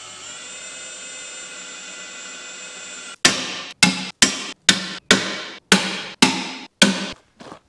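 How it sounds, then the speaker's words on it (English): A drill whirs steadily into a metal sign on a ute for about three seconds. Then about nine sharp, evenly spaced snaps follow as a pop rivet gun fastens the sign, each snap close and loud. "So now we're gonna get our spots, drill our holes, and pop rivet it."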